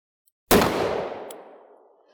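A single sharp gunshot from a .38 Special revolver fires once, loud and close, and its boom rings and decays over about a second and a half. No voices are heard.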